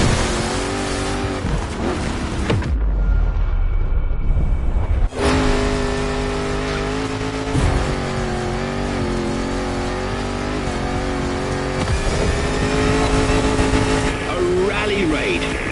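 A rally raid car's engine roars and revs steadily in The Crew Motorfest racing game, with a brief quieter stretch near the start before the engine surges back, and voices are heard alongside.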